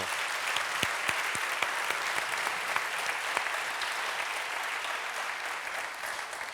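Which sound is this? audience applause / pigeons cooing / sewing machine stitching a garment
audience applause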